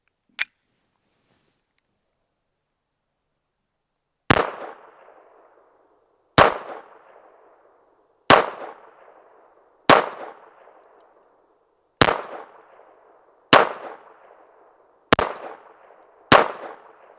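A Retay Arms RXP 22 pistol fires Velocitor .22 rounds outdoors, one sharp shot followed after a pause by eight evenly spaced loud cracks, each trailing a brief ringing echo, with no talking.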